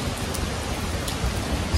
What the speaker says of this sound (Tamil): சம்ம மழை ஜாலியா போடுங்க